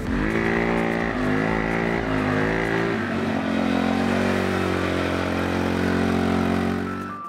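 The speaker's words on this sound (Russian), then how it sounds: "вездеход продолжает свое движение" A children's all-terrain vehicle drives on with a steady, loud engine drone and a shifting harmonic whine, holding constant throughout with no voices.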